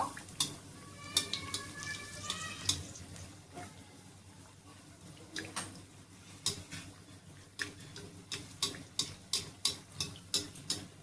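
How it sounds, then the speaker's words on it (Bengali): Hot oil spooned over brinjal fritters frying in a pan: a steady, soft sizzle broken by bursts of quick crackling pops and light ticking clatter that come in runs near the start and end. "এবার গরম তেলটা একটু ছিটিয়ে ছিটিয়ে দিয়ে দেব।"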